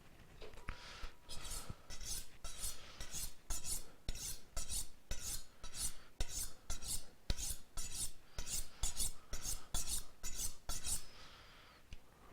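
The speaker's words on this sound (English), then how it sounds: "Give my knife a quick steal." A chef's knife is honed on a sharpening steel while preparing a curry chicken salad, giving a quick run of scraping rasps in a steady rhythm, about twenty strokes, close by and fairly quiet.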